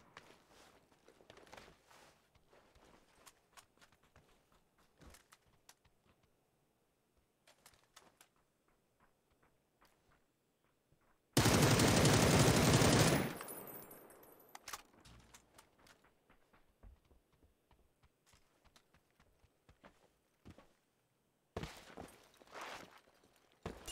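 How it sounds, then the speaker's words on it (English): Gunfire in a first-person shooter game: a loud, dense burst of rapid shots lasting about two seconds, then a second burst near the end, with footsteps and small movement noises in between. "You hear those shots?"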